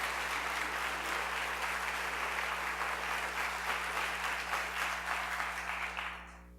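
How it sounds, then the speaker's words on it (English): An audience claps for a school principal at a school district event, sustained dense applause over a low steady hum, fading out at the close. "So I'd like a round of applause for Tammy Solomon Gray"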